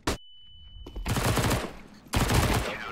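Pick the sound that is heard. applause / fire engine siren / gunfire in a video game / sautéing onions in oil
gunfire in a video game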